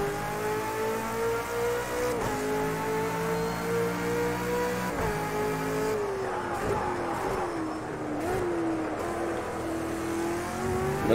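A race car engine holds a steady high whine through a lap in Project Cars 2, pitch dipping at shifts and braking then climbing again, loud and continuous with no voices.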